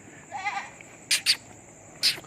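Barbari and Teddy goats on a farm bleat in short, close calls, a brief wavering cry followed by three quick sharp bleats.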